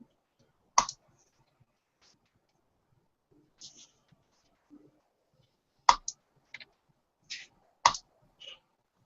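Sparse, sharp clicks on a computer keyboard, coming singly and in small clusters at irregular intervals over near silence.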